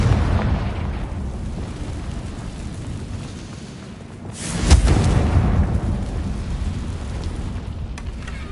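A Confringo blasting spell fires in a Harry Potter video game. A loud booming explosion bursts about midway, and a steady rumbling, rain-like background hangs over the whole passage.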